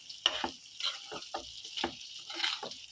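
Meat pieces coated in masala frying in a pan at close range, a spoon scraping and stirring in several distinct strokes over a steady sizzle, with no voices.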